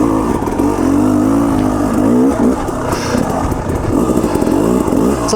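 KTM 300 Enduro two-stroke dirt bike ridden on a wooded trail, engine loud and close, revving and pulling steadily through a corner with rising and falling pitch.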